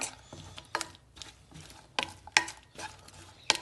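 A spoon stirs turmeric into hot oil in a pan while making radish and green chilli pickle, giving a few sharp scraping clatters against the metal over a faint sizzle, close up, with no talking.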